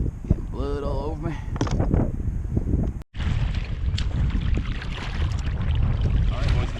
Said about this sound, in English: It is windy. I'm getting blown around.